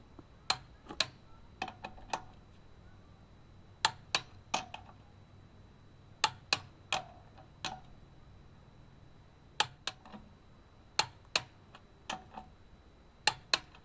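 Sharp single clicks from a torque wrench signalling a wheel nut reaching set torque, often in quick pairs, spaced through a quiet garage with no talking.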